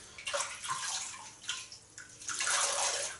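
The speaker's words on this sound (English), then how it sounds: "so we're going to rinse off" Water splashes and runs in bursts as a face is rinsed off after shaving, close and fairly soft, with no talking.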